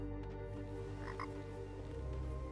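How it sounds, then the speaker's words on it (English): A frog in the fantasy game Tower of Time croaks in a few quick, rough bursts over a low ambient hum, fairly quiet and with no speech. "Frog."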